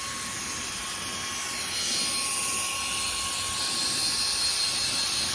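A Vogma V9s turbo fan runs steadily at a low setting, giving off a loud, even whooshing airflow with a thin constant whine, close by and alone with no talking.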